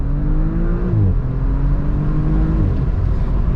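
The 2020 Audi RS4 Avant accelerates at full throttle from inside the cabin, its engine note climbing steadily, dipping at a quick gear change and climbing again, loud and continuous with no talking.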